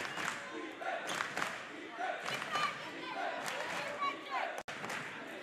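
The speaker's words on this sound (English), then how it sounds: "Crowd chanting defense here." Crowd at a high school unified basketball game, West Warwick vs. Hendricken, chanting in the gym, with rhythmic rising shouts and thumps of clapping and stomping carrying steadily throughout, moderately loud and reverberant.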